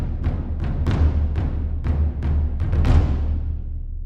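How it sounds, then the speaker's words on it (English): Low taiko drums, bass drum and toms from the BBO Eridanus library pound out a riff of heavy booming hits with ringing decays, about a dozen strikes in a loose rhythm, close and loud, with no voices. "You have the big and medium taiko to the left,"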